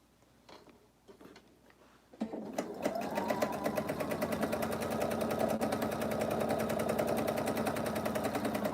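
A sewing machine chain piecing quilt fabric: after a few soft handling clicks, a fast, even mechanical stitching rattle starts and runs steadily and close to the end.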